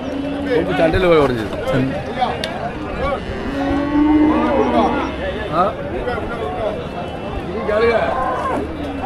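Cattle moo repeatedly at the busy Melapalayam cattle market, where racing bulls are brought for sale, the lowing calls rising over constant crowd chatter and people talking nearby.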